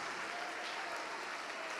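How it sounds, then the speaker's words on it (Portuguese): A church congregation applauds during a worship service: a brief, even wash of many hands clapping, faint and distant-sounding. "Vamos aplaudir mais ao nome de Jesus."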